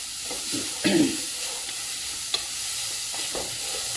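Grated carrots and shredded cabbage stirred in a pan over low heat without ghee, a steady soft sizzle and hiss under occasional scraping stirs of the spoon, with one brief louder clatter.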